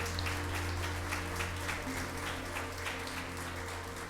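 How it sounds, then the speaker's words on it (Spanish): Applause from a church congregation welcoming a newcomer, a steady wash of clapping over a low constant hum, moderately distant and even throughout. "Vamos a darle un fuerte aplauso."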